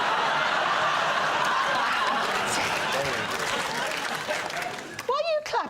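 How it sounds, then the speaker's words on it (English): Studio audience at a British comedy panel show laughs and claps in a broad, dense wash that swells and then thins out, with a voice breaking through near the end. "Why are you clapping?"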